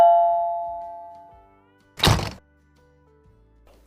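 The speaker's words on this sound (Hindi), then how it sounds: "डोरबेल बज रही है" A doorbell rings with a fading tone at the start, followed by a sharp, loud thunk a moment later and a brief sound at the very end, with no talk.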